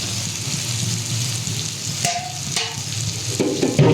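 Chicken coated in chili powder frying in a hot pan, a continuous close sizzle broken by a couple of sharp spatula scrapes midway and louder clattering stirs toward the end.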